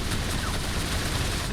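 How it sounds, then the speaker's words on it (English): An autocannon fires on a light machine gun team in the tactical war game The Troop, a dense, continuous rattle of rapid shots with blasts that fill the whole stretch, loud and close, with no talk over it. "We want to hit this LMG team though with the auto cannon here."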